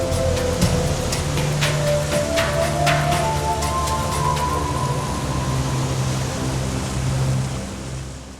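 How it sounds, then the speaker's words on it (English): A bad storm at sea in a children's Sinbad tale: steady rain and rolling surf wash together, loud and continuous with a low rumble, and no voices. "After a few days, the ship got caught in a bad storm."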